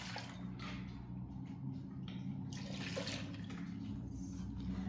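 Milk poured from a four-cup measuring jug into a mixing vessel for homemade eggnog, a steady continuous liquid pour with gurgling and splashing, close and moderately loud, with no talking.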